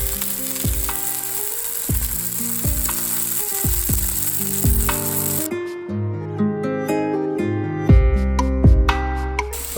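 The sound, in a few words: steak frying in a pan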